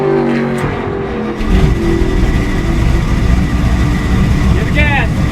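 A car engine turns over and revs up in steady rising and falling bursts, loud and close, with a low rumble that fills the whole stretch, while someone works the clutch; a voice speaks briefly over it near the start.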